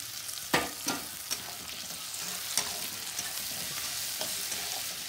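Chopped tomato sautéing with golden-fried onions in a pan, a soft low sizzle broken by several sharp spoon scrapes and stirring knocks, fairly quiet, with no voices.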